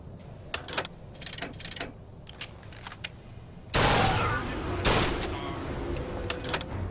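Rifle fire in Bioshock Infinite: Burial at Sea, with a few sharp shots and clicking weapon mechanisms, then a loud sustained roar of gunfire and explosions, with a voice speaking over parts of it.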